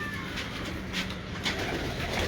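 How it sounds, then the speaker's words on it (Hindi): Pigeons in a rooftop loft coo softly and steadily against a constant hissy background, with no talking. "बड़े अच्छे कबूतर हैं माशाल्लाह"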